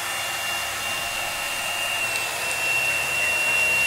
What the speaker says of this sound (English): Turn off the hairdryer.